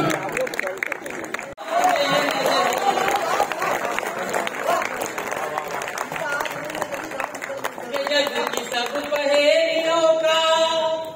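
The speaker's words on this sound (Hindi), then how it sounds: "आइए एक बार जोरदार तालियां बजाए भाई देवेंद्र परिहार" Sustained clapping from the audience at a Chhattisgarhi poetry gathering (kavi sammelan) in Lormi, a dense, steady ovation lasting about ten seconds, with a voice speaking over it near the end.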